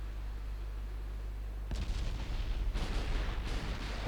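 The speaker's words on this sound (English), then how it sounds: "Torpedoes detonate around here." In the naval battle game Ultimate Admiral: Dreadnoughts, torpedoes detonate as several deep, rumbling booms that roll in over a steady low engine hum, loud but slightly distant, with no voices.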